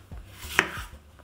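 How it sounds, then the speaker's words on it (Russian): A knife chops bell pepper into strips on a board in a few separate strokes, with one sharp, louder cut in the middle, close and clear. "Перец порежем достаточно крупно, то есть разрезаем на половины и вот такими полосками нарезаем."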